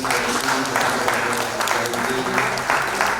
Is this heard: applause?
yes